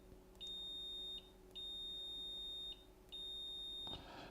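A FNIRSI DMC-100 clamp meter's continuity tester gives three clear, high electronic beeps in a row, each lasting roughly a second with short gaps between, alone in a quiet room.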